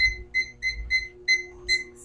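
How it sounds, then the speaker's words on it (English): A digital kitchen timer being set for a 15-minute walk gives a quick run of seven bright, evenly spaced electronic beeps, close and clear, with a faint hum underneath. "I have the timer here, and we're going to set our timer for"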